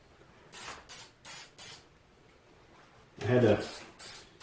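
Short bursts of aerosol clear lacquer spray hiss in quick succession, four brief puffs, a pause, then a longer spray with a voice briefly heard over it.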